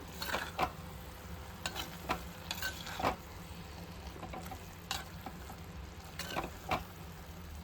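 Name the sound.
stirring green tomato thoran with coconut oil in pan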